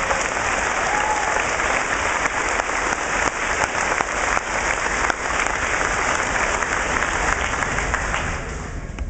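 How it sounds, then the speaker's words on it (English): A large graduation audience in a hall applauds long and steadily, a dense, unbroken wash of clapping that holds its loudness for about nine seconds with no speech. "Please give these students a round of applause."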